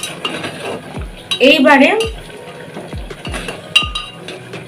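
Boiled meat for shami kabab is stirred in a pressure-cooker pot, with a spoon clinking and knocking against the metal sides in a string of sharp, close hits and a short burst of scraping, while one brief word is spoken.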